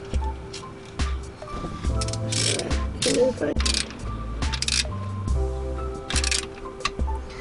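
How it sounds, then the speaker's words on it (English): A ratchet clicks in short, irregular bursts while electrical connections are bolted back onto a Sprinter van's replacement alternator, with close metallic ticks and clunks over a low background hum. "So you're bolting the electrical back on?"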